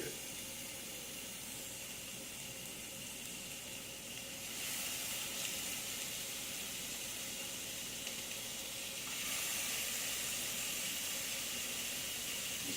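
Cajun prawns sizzle in a hot cast iron skillet, a steady bright frying hiss that swells louder in two steps as more prawns hit the pan, continuous and close.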